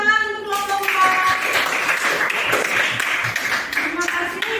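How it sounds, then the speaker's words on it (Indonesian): Applause for a group of presenters in a classroom, a dense, steady patter of many hands clapping for several seconds, loud and continuous after a brief tonal start. "Berikan tepuk tangan untuk kelompok 4."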